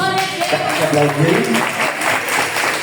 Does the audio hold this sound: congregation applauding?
yes